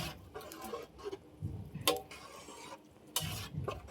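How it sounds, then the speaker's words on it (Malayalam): Rice tossed with carrots, beans and green peas for biryani, a spoon stirring and scraping in a pan in short, soft bursts with light sizzling, no voices. "ഓക്കെ, അരി ഇട്ടിട്ടുണ്ട്. നമ്മളൊന്ന് ഇളക്കി കൊടുക്കുകയാണ്."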